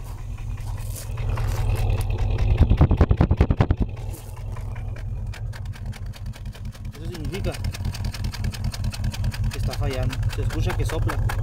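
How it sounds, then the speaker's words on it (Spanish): Chevrolet 350 V8 with a misfiring cylinder from a faulty plug wire or spark plug, its exhaust blowing in an uneven, chuffing pulse at idle, steady and close throughout with a brief louder stretch early on. "si quieren saber si un cilindro está fallando, en este caso pues es un cable, una bujía, simplemente vayan al escape"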